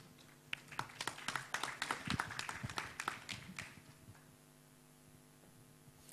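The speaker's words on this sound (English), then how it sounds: "Let's give him a warm applause." Applause from a conference audience greeting a university professor as he takes the stage, a dense burst of claps that swells over a few seconds and then fades into room hum.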